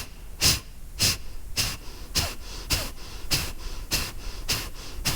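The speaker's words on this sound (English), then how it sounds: "we're forcing the diaphragm in. So you kind of feel like your body is jerking a little bit. That's why it's called the breath of fire" Breath of fire yoga breathing, a rapid series of about ten sharp, forceful nasal exhales in a steady rhythm, close and loud with no talking.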